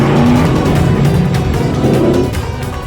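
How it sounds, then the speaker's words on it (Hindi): A car drives off with its engine revving hard, a loud, continuous roar with a hint of tyre squeal that eases slightly at the end. "गाड़ी!"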